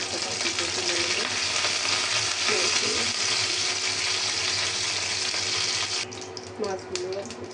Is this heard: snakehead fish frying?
yes